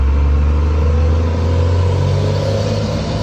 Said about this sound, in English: Sorry about the garbage trucks.